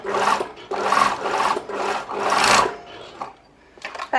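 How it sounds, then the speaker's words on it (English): Sewing machine running a 1 cm seam along two fabric pieces placed right sides together, a steady close mechanical rasp in several runs with short pauses and a quieter stretch near the end. "I'm going to put them together, right sides together, and sew my 1 centimetre seam allowance."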